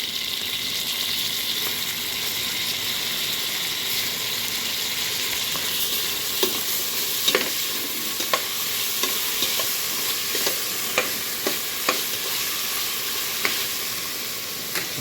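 Macaroni masala with tomatoes is stirred and fried in a pan, a continuous soft sizzle under repeated scraping and clinking strokes of the spoon that grow more frequent toward the end.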